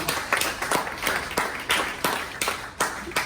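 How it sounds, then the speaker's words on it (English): A round of applause at a Cincinnati/Northern Kentucky chapter meeting, a small group clapping in bursts of uneven claps, moderately loud and close, with no speech over it. "So, a little applause for Jim."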